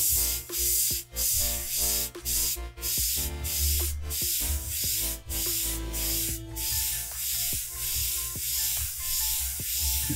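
An airbrush spraying black paint onto a model canal boat: breathy hissing bursts in repeated short pulses, with a low compressor rumble running beneath them, close and fairly loud.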